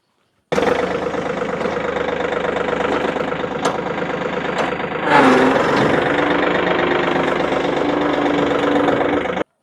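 A farm tractor's engine idles close by with a steady, loud diesel rumble and knocking throb, briefly surging in load midway before settling back to a constant run.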